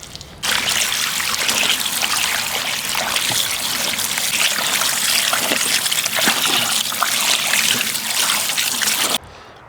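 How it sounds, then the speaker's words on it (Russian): Steady stream of tap water splashing and trickling over a gutted, slippery lamprey as it is rinsed clean, a close continuous rush running nearly ten seconds before cutting off. "сейчас мы ее еще раз контрольно помоем хорошенько."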